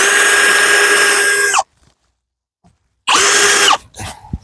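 A power drill trying to drive a screw, two loud close whirring bursts separated by a silent pause, the second burst cutting off abruptly.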